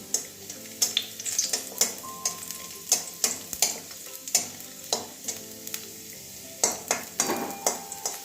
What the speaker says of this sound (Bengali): একটু লাল লাল করে ভেজে নেব রসুনটা